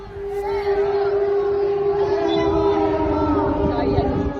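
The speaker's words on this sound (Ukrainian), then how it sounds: "Біля російського консульства в рамках заходу була вімкнена повітряна тривога" An air raid siren wails steadily and loudly outside the Russian consulate in Romania during an anti-war rally, a sustained rising and falling tone over crowd murmur and some voices.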